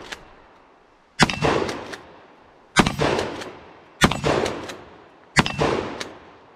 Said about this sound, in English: We're going to shoot some steel first and yeah, see if it gives any pop.